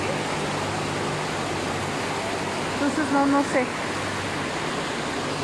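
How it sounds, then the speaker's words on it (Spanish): Floodwater rushing through a street in Ecatepec during extreme weather, a steady loud broadband roar throughout, with someone talking over it partway. "el agua viene de todos lados"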